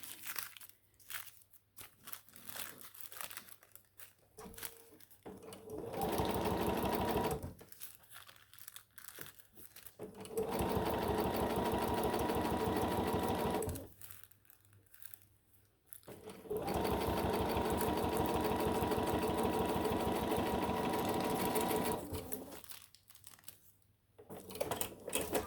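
A sewing machine stitches vinyl to fabric for a bag in three long, steady bursts of rapid mechanical whirring, separated by quieter pauses filled with crinkling and handling noises, all close up.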